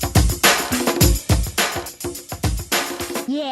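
A punchy breakbeat with heavy kick and snare hits in a steady rhythm plays loud, ending on a short scratched, pitch-sweeping sound.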